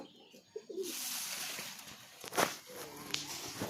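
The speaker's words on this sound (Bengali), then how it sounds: "এই হচ্ছে পায়রা, এবারে ছেড়ে দেবো পায়রা বাচ্চাটা।" Soft coos from a young pigeon close by, a few low murmuring calls over rustling and a brief flutter, quiet overall.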